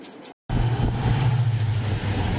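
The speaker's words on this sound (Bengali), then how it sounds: "এখন আমাদের যে ট্রেনের সাথে ক্রস হবে, train number 22504, Indian longest running train বিবেক এক্সপ্রেস," A passing train, the Vivek Express 22504, rumbles steadily on the crossing track after a short silent gap, a loud continuous low drone that holds for about two seconds.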